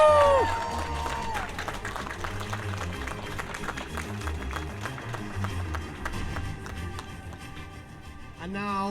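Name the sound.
crowd cheering and applauding for horses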